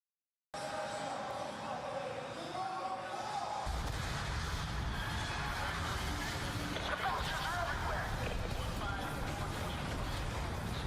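Rockets and bullets fired from a gunship in Call of Duty Black Ops 2, a dense, loud barrage of blasts and rapid impacts layered over constant engine roar, building after a quieter start.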